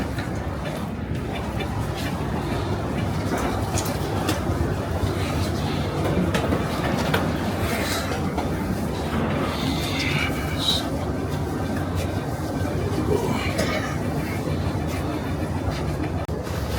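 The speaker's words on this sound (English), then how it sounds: "The train is here." A Beijing airport shuttle metro train rumbles steadily nearby, with continuous wheel noise and a few faint squeals and clicks, no talking.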